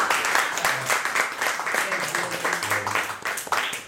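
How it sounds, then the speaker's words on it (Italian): Audience applause after a poetry conversation, dense steady clapping across the whole span with some voices mixed in underneath. "un applauso"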